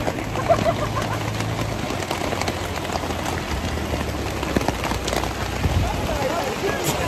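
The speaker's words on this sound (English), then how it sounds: "It's raining a lot." Heavy rain pours down steadily, a dense hiss of drops pattering on surfaces, with a faint low rumble underneath.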